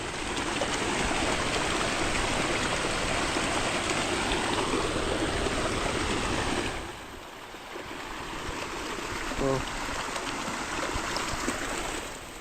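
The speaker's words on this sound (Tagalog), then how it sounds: "Pagkalakas ng tubig." Loud, steady rush of strong water flowing through a lined irrigation canal by farmland fills the whole clip, a broad roaring wash that dips briefly midway before surging back, with no talk.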